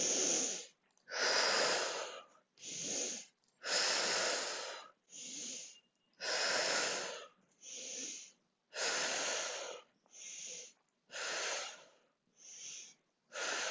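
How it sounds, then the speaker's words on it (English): Deep nasal breaths during a mat exercise session, about a dozen audible inhales and exhales in a steady rhythm, each a close, airy rush lasting roughly a second and separated by brief silences. "Use your breath in through your nose."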